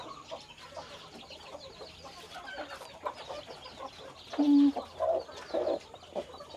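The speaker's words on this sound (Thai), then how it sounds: "ได้ยินเสียง ลูกไก่" Newly hatched chicks peep among their hen's soft clucks, with several short, fairly close chirps toward the end over a quiet farmyard background.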